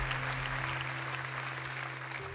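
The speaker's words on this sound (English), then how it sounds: "Deserves a round of applause as well." Quiet applause from a church congregation at Hillsong, a soft, even wash of clapping heard from a distance over a steady low hum.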